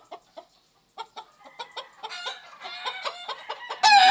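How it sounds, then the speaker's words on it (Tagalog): Kelso breeding hens clucking close by, short scattered clucks that thicken into a busy run of calls, ending with a louder squawk; no talking. "Ito pa yung mga inahing iba"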